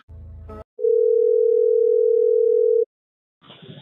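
A steady telephone line tone sounds after a call is hung up, one continuous loud tone of about two seconds, set between brief stretches of other noise.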